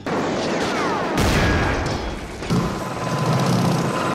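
A film trailer gunfight with a heavy, continuous barrage of gunfire and booming impacts, loud and dense, one big blast standing out partway through the clamor.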